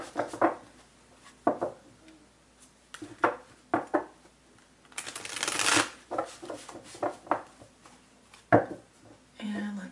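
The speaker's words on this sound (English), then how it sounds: "Let's do a couple more shuffles here." Tarot cards shuffled by hand in quiet bursts: soft, repeated riffling and card slaps through the passage, with one longer, louder shuffle midway, alongside a low murmuring voice.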